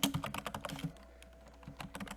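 Typing on a computer keyboard while working in a Word document on a desktop computer: quick bursts of close, crisp key clicks, a short pause, then a few more taps.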